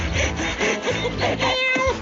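A person imitates a cat, producing a string of drawn-out, nasal meowing calls in quick succession, fairly loud and close, with no other talk.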